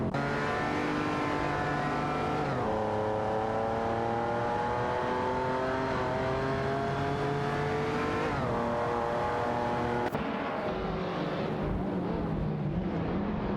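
Race car engines in a racing video game, a Dodge Viper GTS ACR '99 among Shelby Series 1 cars, rev loud and high, climb through gears with shifts, and drop away near the end.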